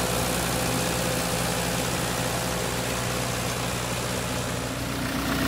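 A tractor engine runs steadily while powering a Progreen FertCast fertiliser spreader through its PTO, a loud, constant low drone with a whirring mechanical hum and no breaks.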